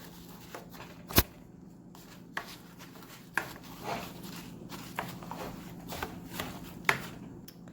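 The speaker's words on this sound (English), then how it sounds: "you're going to want to get a spoon and just go ahead and mix those together" A spoon stirs dry oats and sugar together in a bowl, giving faint scraping taps and soft rustles at irregular intervals, close and quiet with no talking.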